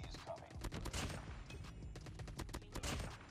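Dense, rapid bursts of automatic rifle fire from an ASM10 and other guns crackle in Call of Duty Mobile, loud and continuous with overlapping shots throughout.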